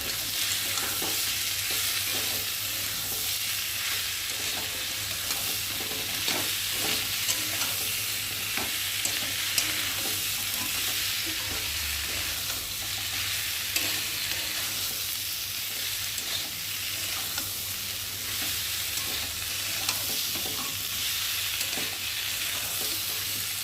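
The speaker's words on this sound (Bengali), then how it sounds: "মশলার সাথে আলু কচু চিংড়ি মাছ দিয়ে ভালো করে কষিয়ে নিই" Fried prawns, potato and taro being sautéed with ground ginger, cumin and other spices in a pan, giving a long steady sizzle with frequent soft scraping stir strokes, close and without speech.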